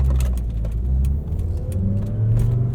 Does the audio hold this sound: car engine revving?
yes